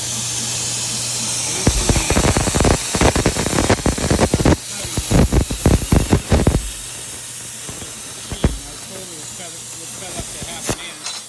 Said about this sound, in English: am cutting a straight edge along the bottom, and pretty happy with the quality of the cut on this 1/4 inch material